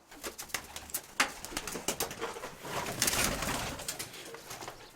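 Several pigeons coo softly in a loft or yard, low rolling calls repeating under faint rustling and a few wing flutters, with no one speaking.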